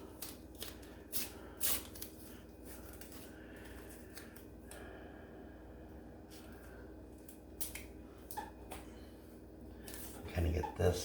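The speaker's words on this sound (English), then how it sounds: "So we're just going to rip this tape kind of down the middle." Tape is ripped down the middle while decorating a personalized welcome mat, giving a few short, scratchy tearing bursts spaced out between quiet handling noises, with a louder crinkling rip near the end.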